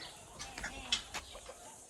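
Chicks from an incubator in a backyard coop give a few faint, scattered peeps and clucking chirps, soft and brief over a quiet background.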